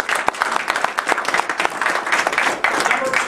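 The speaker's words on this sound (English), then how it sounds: "get a round of applause, get a little energy in here" A round of applause from the audience at a motivational talk, with sharp individual claps standing out over a lively, uneven crowd clapping that rises and falls for a few seconds.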